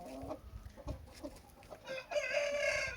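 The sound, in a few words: rooster and hens clucking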